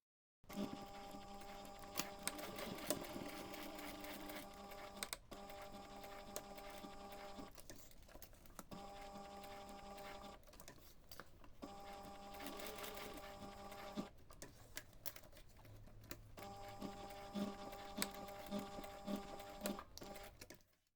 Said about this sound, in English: next you're going to take this to the machine and we're going to stitch a little box to anchor that end in place